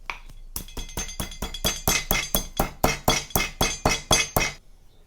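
Whole black peppercorns are cracked for salt and pepper spare ribs with about a dozen sharp, evenly spaced hard strikes in quick rhythm, close and loud, with no voices.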